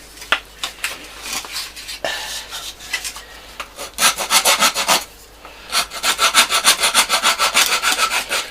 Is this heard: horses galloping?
no